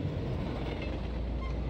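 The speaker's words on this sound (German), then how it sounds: "Ein Zug." Steady rumble of a train rolling along in the background of the A Memoir Blue video game, a continuous dense low rattle with no breaks and no talk.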